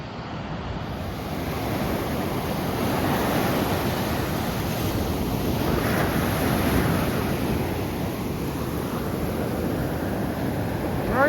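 Atlantic Ocean surf rolls onto a beach at Carolina Beach, a loud, continuous wash of breaking waves with wind buffeting the microphone.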